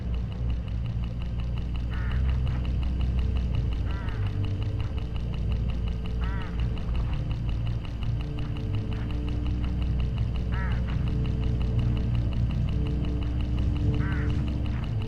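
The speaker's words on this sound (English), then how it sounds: "Look, hooded crows all along this road." Hooded crows along a road in the game Hitchhiker give short, harsh calls at intervals of a couple of seconds over a steady low rumble of ambient noise.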